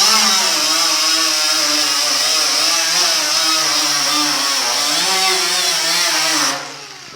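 A wire wheel on a power tool stripping paint from a 1950 Chevy truck door, a steady loud high-pitched whine with gently wavering pitch that holds for several seconds, then spins down at the end.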